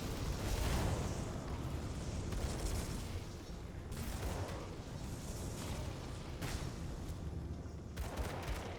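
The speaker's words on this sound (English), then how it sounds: "This build is very explodey. There's all of the explosions." Dense, continuous game explosions and blasts from a lightning grenade-throwing sorcerer in Grim Dawn hardcore, loud and overlapping with repeated bursts throughout and no pauses.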